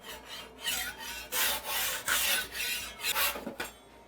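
A drywall knife scrapes across a thin fresh layer of joint compound on a taped wall seam, making repeated rasping strokes in bursts of about half a second, close and fairly loud, with no talking.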